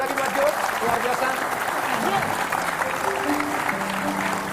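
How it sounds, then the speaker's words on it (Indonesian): Studio audience applauding on an Indonesian talk show, a steady wash of clapping with voices and hosts talking over it throughout. "Tepuk tangan sekali lagi buat Jo."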